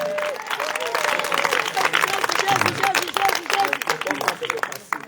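A church congregation at a testimony festival breaks into loud, sustained applause and cheering acclaiming Jesus, dense clapping filling the room with voices mixed in.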